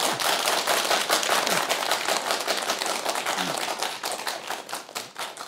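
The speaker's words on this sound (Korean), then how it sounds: "여러분 큰 박수 부탁드리겠습니다." Audience applause for a guest speaker introduced as a scholar of Hunminjeongeum at a Korean lecture event: dense, sustained clapping from many hands throughout, loud and close, slowly thinning toward the end.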